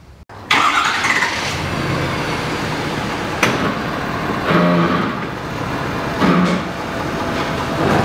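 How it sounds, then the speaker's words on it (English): A pickup truck engine cranks and catches, then settles into a steady loud idle with a few surges, heard up close while hooking up a fifth wheel RV trailer. "So I'm going to start the truck now."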